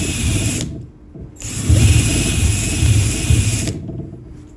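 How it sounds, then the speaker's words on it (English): A round wire brush spun by a power drill scrubs weld flux and slag off steel, a loud, steady grinding whir with a harsh metallic scratch, pausing briefly before running again continuously. "A wire brush like this, a round brush on a drill,"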